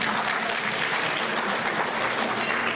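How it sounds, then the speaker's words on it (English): An audience at a lecture on Syria and Israel studies breaks into dense, steady applause, loud and close, sustained evenly with no voices over it. "So you can applaud that."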